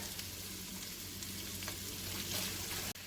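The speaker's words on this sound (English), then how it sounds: "We're going to saute this, stir it around for about 5 minutes." Celery and onion sautéing in a pan with bell peppers, a soft steady sizzle with occasional faint stirring scrapes, low and continuous throughout with no voices.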